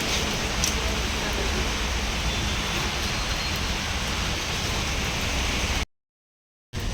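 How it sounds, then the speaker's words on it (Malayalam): Heavy rain pouring outside, a dense, loud, continuous hiss that holds steady for about six seconds before cutting out abruptly to silence, then briefly resuming. "ഭയങ്കര മഴയാണ് പുറത്തിറങ്ങാൻ ഒരു രക്ഷയില്ല"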